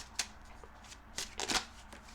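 Tarot cards are shuffled in several short, quiet riffling bursts, close by and uneven in spacing, with no speech.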